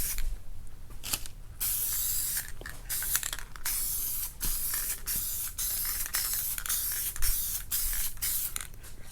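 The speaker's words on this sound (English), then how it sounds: "Spray another coat on." An aerosol can sprays paint onto an automotive sun visor in bursts of hissing of varied length, close and fairly loud, with short pauses and clicks between passes.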